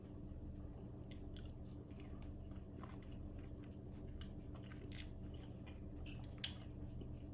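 Soft, close chewing and biting of a forkful of Southern-style shrimp and grits, quiet wet mouth sounds with small crunchy clicks over a low steady room hum.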